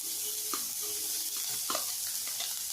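Green onion and carrot sautéing over a medium flame in a pan, with a steady soft sizzle and a few light scrapes and taps of a stirring spoon.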